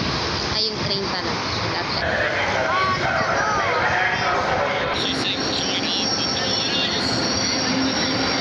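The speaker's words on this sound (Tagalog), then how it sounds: "Ay, yung train pala." LRT light rail train passing near Quiapo Church, a loud continuous rumble with high wheel squeal throughout, close and steady.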